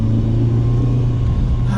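A BMW E30 M3's naturally aspirated 2.3 litre four-cylinder engine drones loudly and steadily from close range, a continuous mechanical hum heard from inside the car.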